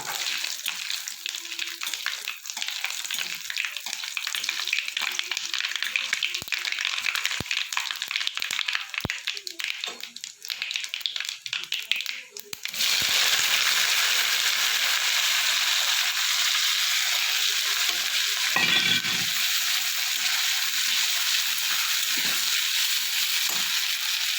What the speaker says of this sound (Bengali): এবার আমি কুচানো পেঁয়াজগুলো দিয়ে দেবো